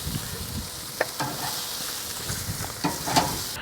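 Pork belly fat sizzles and crackles on a hot charcoal grill, a close, continuous hiss broken by a few sharp pops.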